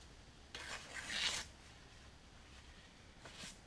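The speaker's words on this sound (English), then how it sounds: "I'm going to use a combination of sandpaper and aluminum polish" A few quiet rasping strokes of 600 grit sandpaper rubbed on the oxidized aluminum front fork of a Kawasaki Vulcan 1500 Classic, faint and close, in short bursts with pauses between.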